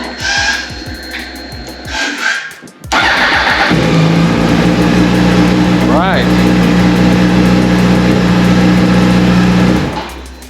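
Yamaha R1 motorcycle engine, 2004–2006 model with a newly replaced starter, cranking briefly then catching and settling into a loud, steady close-up idle with a quick rev midway, after a short stretch of preliminary noise.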